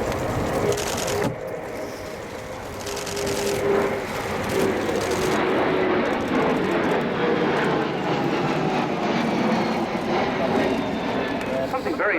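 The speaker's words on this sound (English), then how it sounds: "Another flypast now from the P-1, this time at around 250 knots." A Kawasaki P-1 maritime patrol aircraft with four IHI XF7-10 turbofans makes a flypast at about 250 knots at an air show. The jet roar swells and sustains, while a commentator talks over it throughout.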